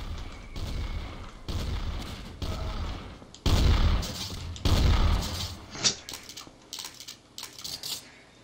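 Gunfire in a Garry's Mod Trouble in Terrorist Town match, with repeated bursts of shots and booms at a moderate level, followed by scattered single shots.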